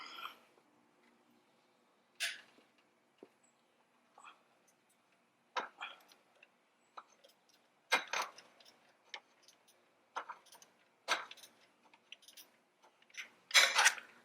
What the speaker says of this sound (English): This is what I'm using, 3/8 ratchet with a extended 12mm socket.